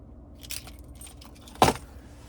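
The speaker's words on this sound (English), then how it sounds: "Finally, here's the key fob." Car key fob of a 2025 Toyota Camry SE jangles close by, a faint soft shake early and then one sharp bright jingle, with no talking.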